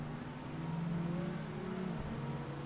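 A TVR Tamora's engine drones steadily at near-constant revs through a street race in Project Gotham Racing 2, the pitch holding over a continuous low hum with a brief high electronic blip near the end.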